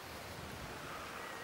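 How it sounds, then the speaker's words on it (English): Gusting wind buffeting the microphone outdoors at a fishing lake, a faint continuous broadband roar with no clear talk. "So difficult to operate a catapult in this wind as well, isn't it?"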